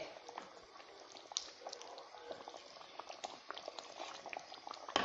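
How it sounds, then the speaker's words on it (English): A stew of rice and eggs seasoned with curry powder simmers over a fire, giving a quiet, continuous bubbling with small irregular pops and blips throughout. "I will leave it on fire to cook for about 15 minutes."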